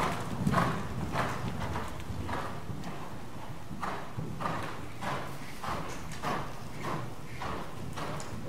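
Horse hooves beat in a steady rhythmic canter during a riding lesson, regular muffled thuds on soft arena footing with no clear voice over them.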